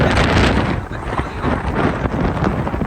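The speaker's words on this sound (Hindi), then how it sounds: "वो कितनी गंदी आंधी चल रही है यार" A strong dust storm gusts around a vehicle outdoors, a dense, continuous roar of wind buffeting the microphone with heavy low rumble and loud thumping gusts throughout, no voices.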